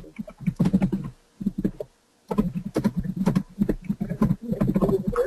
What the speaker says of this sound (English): We do hear some people typing